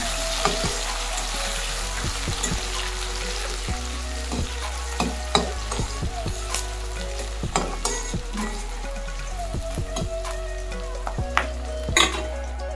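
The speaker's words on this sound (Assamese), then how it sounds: "পিয়াজখিনি খুব বেছি 2 মিনিট সময় ভাজি ললো" Sliced onions fry in hot oil, giving a continuous close sizzle broken by repeated scraping and tapping from a stirring spatula.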